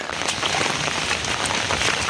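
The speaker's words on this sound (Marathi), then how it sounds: "दोन तीन दिवस मित्रांनो भरपूर पाऊस पडतो आहे आणि आज आज तर भरपूरच पडला" Heavy unseasonal pre-monsoon rain in the Konkan countryside pours steadily and densely onto surfaces, a continuous close hiss with scattered drop patter and no voices.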